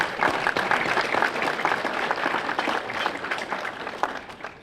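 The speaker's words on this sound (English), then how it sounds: "Give yourself a round of applause." Applause from an audience at an early Saturday morning scholar breakfast event, sustained dense clapping that fills the room and gradually tapers off.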